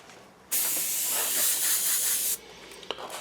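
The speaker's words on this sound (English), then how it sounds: "use the airbrush with the same colours you had in there earlier" An airbrush sprays paint over stencil masks for a tabletop landing pad terrain set, a close, steady hiss lasting about two seconds that starts and stops abruptly against quiet room background.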